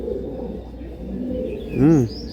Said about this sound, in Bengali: খুব ভালো কোয়ালিটি পায়রা।